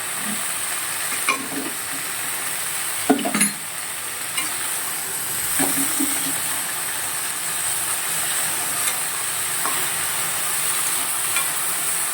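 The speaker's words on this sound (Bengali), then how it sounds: "ভেন্ডিটাকে প্রায় ভাজা ভাজা হয়ে এসছে" Okra fries in a pan for a Bengali okra and poppy-seed dish, a steady soft sizzle with occasional scraping stirs of a spatula, close and unaccompanied by talk.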